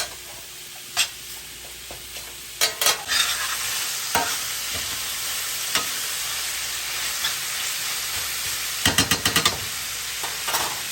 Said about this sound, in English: Just rendering all this fat out until it gets crispy.